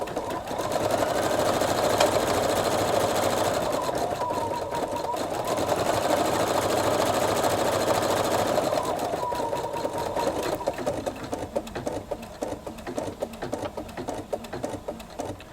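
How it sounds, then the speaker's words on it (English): A Pfaff Creative Sensation Pro sewing machine stitching buttonholes in embroidery mode, with a steady rapid mechanical whirring and needle chatter that holds loud and close, then turns choppier and lighter toward the end. "I want to show you just how beautiful buttonholes turn out in embroidery mode"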